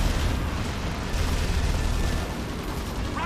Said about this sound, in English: This facility will not survive the explosion.